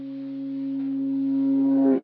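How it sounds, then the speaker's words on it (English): A reversed bass note in a custom-made pop beat swells steadily louder as a sustained low tone for about two seconds, then cuts off abruptly at its peak. "We've also got this reversed bass here,"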